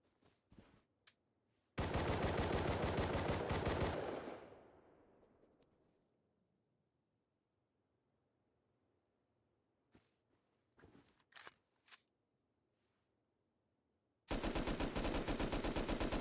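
Video game Rust gunfire striking vehicle armor: a sustained burst of rapid automatic shots that fades out, scattered single shots, then another loud continuous burst near the end.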